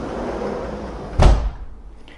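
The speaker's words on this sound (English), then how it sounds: "I'm going to shut this door because it's going to get noisy" A door in a residential unit's living area shut once with a single solid thud midway, after low room noise, followed by quiet.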